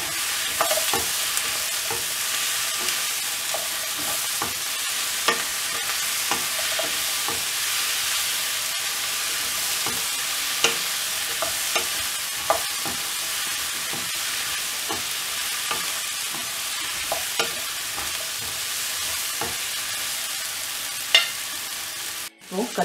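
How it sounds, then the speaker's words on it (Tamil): Eggplant and drumstick pieces frying in oil in a pan, a steady close sizzle with frequent scraping stirs of a spatula throughout, no voices. "கத்திரிக்காய் ஆட் பண்ணிவிட்டு இதுலேயே முருங்கைக்காவையும் ஆட் பண்ணிடலாம் நல்லா ஃப்ரை பண்ணி விட்டுடலாம்"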